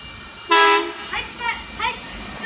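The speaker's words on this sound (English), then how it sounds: "Oscar passing platform 1, Bondi Junction service. It is doing 90 k's an hour." A Sydney Trains H-set (Oscar) on a Bondi Junction service passes a platform at Woonona at about 90 km/h, sounding a loud, brief horn toot, followed by a voice talking over a low rumble.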